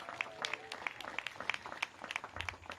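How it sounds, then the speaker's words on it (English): Scattered applause from a small crowd at an outdoor ribbon-cutting for a short-term family housing site, with individual claps standing out in an uneven, thin rhythm at moderate distance. "Give DHS a big round of applause."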